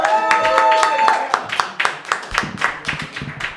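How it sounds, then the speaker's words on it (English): A small audience at a storytelling open-mic night claps for the evening's host. The applause starts under a fading voice, then thins into scattered, separate claps close by. "Please give a warm round of applause to your host for this evening, Mike Derbecker."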